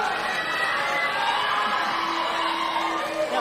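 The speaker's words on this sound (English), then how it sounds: "listen to all the people cheering for the question" A large audience at a TPUSA political event cheers and whoops loudly and continuously, a dense roar of voices with no letup.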